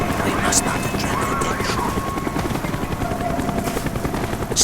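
In the Black Ops game, a helicopter thrums overhead in a steady, loud rotor drone that lasts throughout, with a voice speaking over it.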